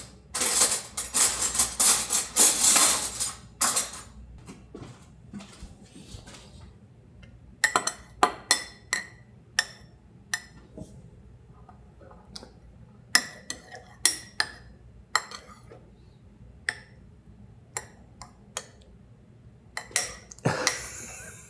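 Spoons and dishes clink while tea is made on a day trip to Lake Louise and Calgary. A noisy opening burst gives way to scattered sharp metallic taps and clinks, some close and loud, spread across the stretch.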